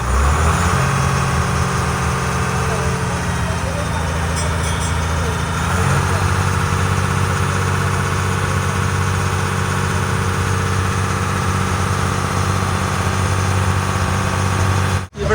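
A passenger boat engine rumbles steadily on the Alappuzha–Kottayam backwaters near Vembanad Lake, a loud, continuous low drone with a slight shift as the boat turns, and voices faintly over it.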